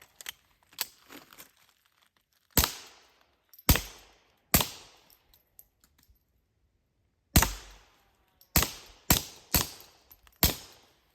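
Suppressed .22 rifle firing subsonic ammunition, a string of about eight soft, close cracks with quick decays, spaced irregularly with quiet gaps between shots.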